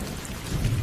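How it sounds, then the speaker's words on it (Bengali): A Kalbaishakhi storm in a Bengali horror cartoon, with steady rainfall and a low, rolling rumble of thunder that swells toward the end of a very short stretch, with no voices. "বিকেল থেকে বৃষ্টি হচ্ছে"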